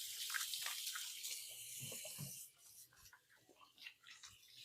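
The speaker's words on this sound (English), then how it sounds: "I'm going to go give my hands a quick wash" Hands being washed under a running kitchen tap during cooking, a soft steady hiss of water with rubbing and splashing that thins out midway into intermittent drips and faint handling sounds.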